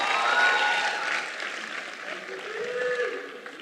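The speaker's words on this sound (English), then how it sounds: "a very another round of applause for the strong spirit of ICGE" An audience at a club grand-opening event gives a round of applause, sustained clapping at moderate level that tapers slightly, with some faint voices mixed in.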